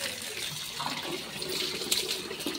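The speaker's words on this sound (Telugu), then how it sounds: "ఇప్పుడైతే నేనైతే వాటర్ వేసి కడిగేస్తున్నాను" Water is poured over a new white Rajasthan marble tulsi planter to wash it, a steady close splashing and trickling that runs continuously without talk.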